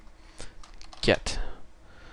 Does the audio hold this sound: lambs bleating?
no